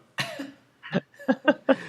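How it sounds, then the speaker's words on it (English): Someone coughs close to a live-stream microphone in a short burst of four or five harsh, rapid barks. "I was coughing."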